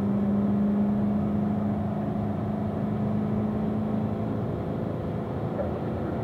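A Corvette drones steadily on a race track, the engine note holding an even pitch, with no clear shift break evident in the continuous hum.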